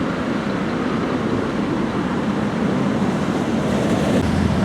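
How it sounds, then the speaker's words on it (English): Luas tram running alongside the Grand Canal in Dublin, heard as a steady broadband rumble and rolling rush throughout, fairly loud and close, with no talk. "you've got the Lewis tram running right next door to your shoulder"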